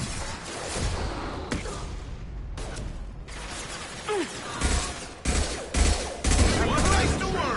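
Rifle fire in a Mass Effect 2 firefight: clusters of cracking shots and a distant crackle of gunfire, growing louder and denser toward the end, with a whoosh in the middle.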